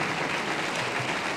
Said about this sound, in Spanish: Un aplauso fuerte para todos y para todas.